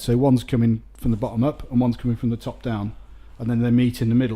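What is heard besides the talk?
No distinct noise like a dog, phone or traffic.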